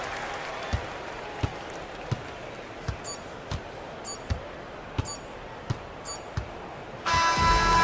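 A home crowd in a Euroleague basketball video game bursts into loud cheering and applause for a victory, arriving suddenly after a series of sharp, evenly spaced ball bounces on the court.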